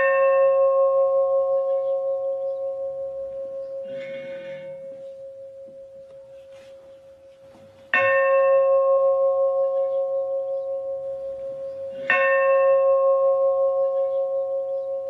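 Historic church bells cast in 1720 in Rere, Chile, ringing in slow single strikes with long sustained tones that decay between hits, a fainter tap midway and two strong clangs later, no talk.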